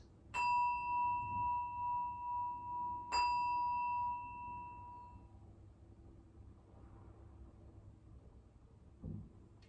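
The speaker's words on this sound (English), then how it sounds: "I'll ring the bell twice," A yoga bell is struck twice, about three seconds apart, each strike a clear bright ring that sustains and slowly fades into a quiet room.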